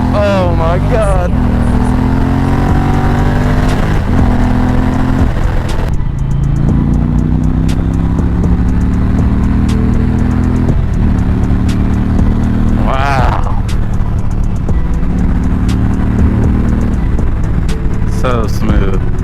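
A 2021 Indian Challenger motorcycle riding at speed in fourth gear, its loud steady engine drone rising and falling through throttle changes, with wind rush and a rider talking over it.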